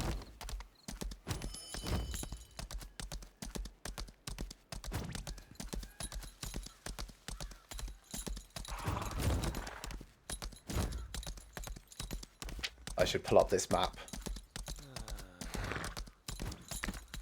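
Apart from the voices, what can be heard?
horse hooves while riding in a video game (Wardance)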